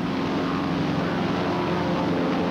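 Piston propeller planes of a 1953 US Navy training formation drone steadily in a continuous, even engine roar with no pauses or voices.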